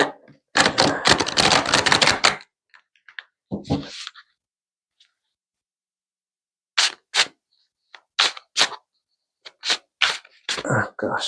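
Playing cards shuffled for a tarot reading: a rapid burst of riffling snaps, followed by scattered short clicks and flicks of cards being handled, close and crisp, with silent gaps between.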